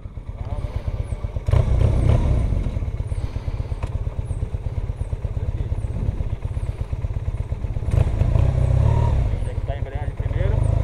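A Honda CB450 Custom motorcycle sits on its center stand with the engine running, a steady close, loud throb with revs rising around two and eight seconds, while people talk over it.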